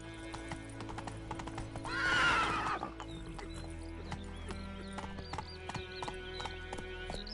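A horse in the video game The Witcher 3 gallops with steady clip-clop hoofbeats and lets out one loud whinny partway through, set against faint game ambience.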